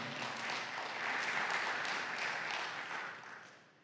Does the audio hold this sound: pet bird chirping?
no